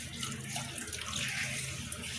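Water poured into a cooking pot for namkeen gosht, a steady broadband rush lasting about two seconds at moderate level, with no talk over it.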